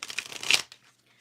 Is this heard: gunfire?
no